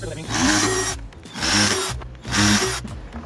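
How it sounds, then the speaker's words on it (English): A power drill bores a hole into a plastic bucket just beneath the lid ring for a self-watering plant pot, in three short whining bursts with brief pauses between them, close and loud. "drill a hole or two right beneath the lid, right beneath the ring"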